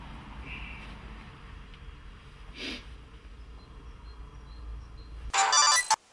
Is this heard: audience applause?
no